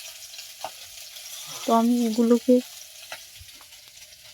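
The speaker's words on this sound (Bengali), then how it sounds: "তো লো ফ্লেমে গ্যাসটা রেখে এইভাবে ধীরে ধীরে রেসিপিটা ভাজতে হবে।" A tangy, spicy-sweet tomato snack fries slowly in a pan over a low gas flame, giving a soft, faint, steady sizzle, with someone speaking briefly over it.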